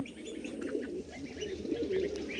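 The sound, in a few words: pigeons cooing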